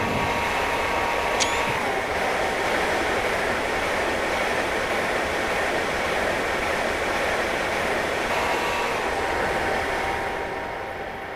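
A German ICE high-speed train running in Train Sim World 2021, a loud, steady roar of wheels and traction motors with a faint electric whine and a short high squeal early on, unbroken throughout.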